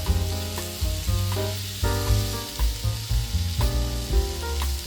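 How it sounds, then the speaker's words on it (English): Loud, steady sizzling of a pork loin searing fat side down in a hot pan, with crackling pops throughout and no voices. "Isn't that sizzling wonderful sound?"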